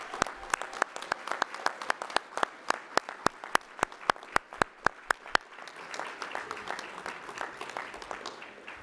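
Audience at a youth awards ceremony applauds the award recipients, with sharp, crisp claps at first that thin into softer, scattered clapping from a moderately sized crowd in a room.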